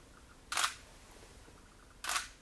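A camera shutter fires twice, about a second and a half apart, each a crisp mechanical snap against a quiet background with no voices.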